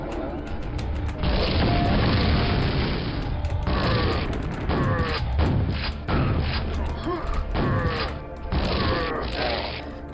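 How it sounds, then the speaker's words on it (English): Video-game explosions from a grenade launcher, repeated booms and crashes in loud bursts with mechanical clatter, under a speaking voice. "Oh, I have a grenade launcher."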